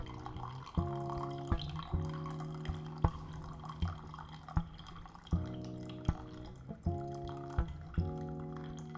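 Water poured from a kettle into a brewed Aeropress coffee to dilute it, heard as a close, steady trickling stream with light dripping and splashing in several short bursts separated by pauses.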